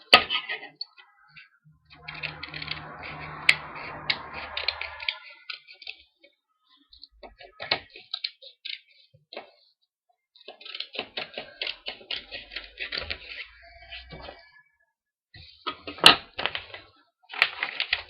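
Scissors snip through a paper strip while folding a paper frog, giving close, crisp bursts of cutting and rustling separated by short quiet gaps.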